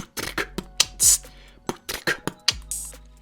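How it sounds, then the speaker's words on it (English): Short, bright, crisp hiss-like hits made from a seashell, similar to an open hi-hat, land one after another in an irregular rhythm with clicks between them. "I need something that sounds like the open hat that I use in my beatboxing"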